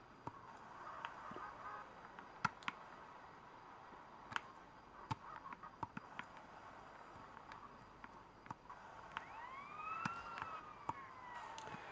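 A police siren wails in the video game Driver, its rising and falling tones fairly faint beneath scattered clicks and small impact sounds.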